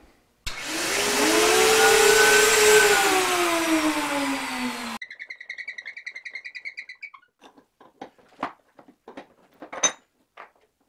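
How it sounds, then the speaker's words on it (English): A table-mounted router with a lift, fitted in a table saw wing, runs together with a shop vacuum, giving a loud whining roar with a falling pitch for about four seconds before cutting off, followed by scattered light clicks and taps. "Just turn that on now and the router should come on along with the vacuum."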